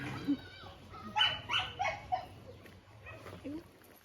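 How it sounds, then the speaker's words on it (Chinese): Several short puppy barks and yelps close by during a bath at a stray dog shelter in Chiang Mai, with whimpering in between, over a low background hum. "狗叫的跟人叫的一样"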